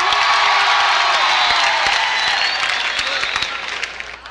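Audience at a comedy club show applauding, cheering and whooping loudly to vote for an option, a dense continuous roar that tapers off toward the end.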